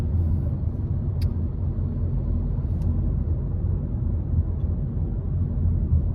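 Car cruising through the Dartford crossing tunnel, a low steady road rumble and engine drone echoing inside the enclosed bore, with a couple of brief faint clicks above it.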